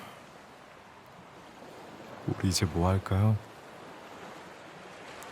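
Ocean waves wash onto a beach at night in a soft, continuous, fairly distant roar that stays low throughout, while someone speaks briefly in the middle.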